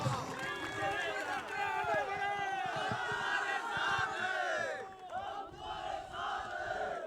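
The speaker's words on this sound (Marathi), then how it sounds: "त्या जोरदार टाळ्या, जोरदार टाळ्या झाल्या पाहिजेत" A large crowd at a Shiv Sena political rally for Uddhav Thackeray roars and chants together, a dense, loud wall of voices that carries on steadily and dips briefly near the end.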